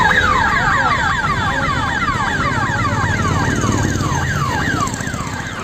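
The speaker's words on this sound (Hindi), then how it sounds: "सायरन की लगातार गूंज रही आवाज ने हर किसी के कान खड़े कर दिए।" A loud electronic bank alarm siren wails continuously, rising and falling in rapid repeated sweeps, with a low rumble of traffic underneath.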